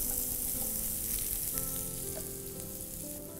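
Chopped onions sizzle and fry steadily in olive oil in a hot pan, a dense, even crackle close by with no talking over it.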